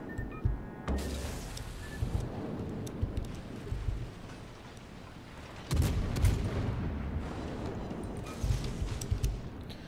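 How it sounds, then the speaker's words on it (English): Torpedo explosions rumble in a World of Warships naval battle, two heavy booming bursts around the one- and six-second marks over a constant low rolling din of distant gunfire. "More torpedoes incoming."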